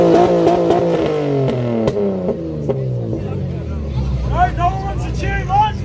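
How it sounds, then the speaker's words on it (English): A car engine revs at a street car meet, rising and falling in pitch with a crowd talking and shouting around it. "Give it a rev!"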